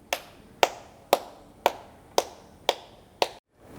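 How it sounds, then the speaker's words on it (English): Hands clap seven times at a steady, even pace during a children's English lesson, each clap sharp and close, then quiet. "Clap your hands."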